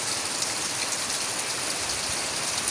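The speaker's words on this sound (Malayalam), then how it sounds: "കണ്ടാ മഴ കണ്ടാ?" Rain falling steadily, a dense, even patter and hiss of drops on surfaces, close and continuous with no voices.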